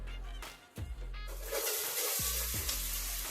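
Onions sizzle steadily in hot oil in a sufuria, a bright crackling hiss that swells louder partway through, with a few low knocks from a pan or utensil.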